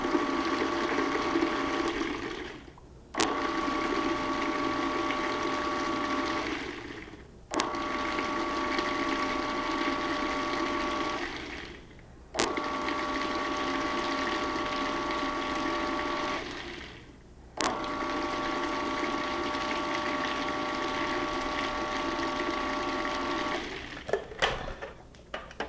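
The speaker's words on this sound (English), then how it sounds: "Cap this off and pulse it until the garlic is all ground up." A food processor pulses repeatedly to grind garlic for hummus, giving about five whirring bursts of several seconds each separated by brief pauses, loud and close with a steady motor hum.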